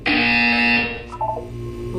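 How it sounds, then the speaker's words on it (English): A loud electronic buzzer from the Portal 2 video game sounds in one sustained tone lasting under a second, then fades into quieter electronic chirps and a low hum. "You will hear a buzzer."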